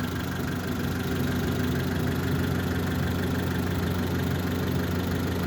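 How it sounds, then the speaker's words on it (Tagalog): A Mitsubishi Lancer engine idles steadily and evenly, a continuous low rumble with no breaks, close by and fairly loud, no voices. "Ganda ng andar ng makina, oh."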